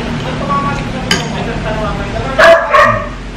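A household dog at an outdoor roadside barbecue spot gives two quick barks near the end, heard over steady ambient street noise and background chatter.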